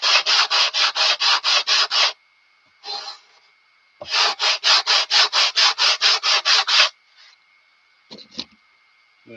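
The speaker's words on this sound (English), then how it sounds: "sanding right over the gap" Rapid rhythmic scratching strokes of hand sanding on wood sheeting, two bursts of about ten even back-and-forth passes, close and loud, with brief pauses.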